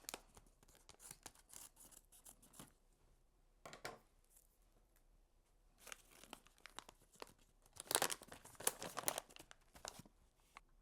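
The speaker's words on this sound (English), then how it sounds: "So I'm going to open up my bag of coffee." A bag of coffee beans is torn open and crinkled by hand at close range, giving scattered faint rustling bursts with louder tearing near the end.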